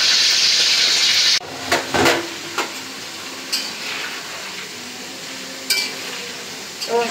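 Roast sizzles loudly in a pan of hot oil in a village Bangla kitchen, then the hiss drops and a spatula scrapes and clatters against the pan in several separate stirs over a quieter background sizzle.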